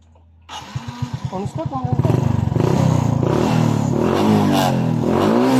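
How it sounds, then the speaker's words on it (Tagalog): A Suzuki Smash 115 motorcycle cranks with a quick run of rhythmic starter pulses, then catches and settles into a loud, steady idle close by. "nag-start na ang motor"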